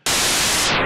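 A noise oscillator in the Reason Grain synth bursts in as a loud, dense wash of static hiss, holding steady for under a second before its top end darkens slightly at the close, with no voice over it.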